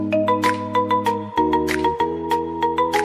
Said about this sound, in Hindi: कृष्णा जी, आपका फोन बज रहा है।